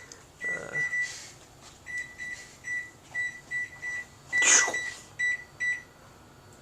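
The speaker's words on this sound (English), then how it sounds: "I'm setting the microwave" A microwave oven being set, its keypad giving a series of short, sharp electronic beeps in an irregular rhythm, close by in a quiet indoor room.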